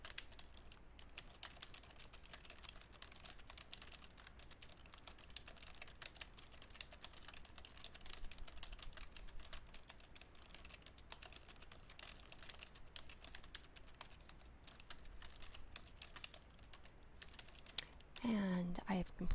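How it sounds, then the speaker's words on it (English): Steady, quiet typing on a computer keyboard as a letter paragraph is entered, a continuous patter of soft keystrokes over low background noise, with a brief louder clatter near the end. "I'm going to double space and type my last paragraph."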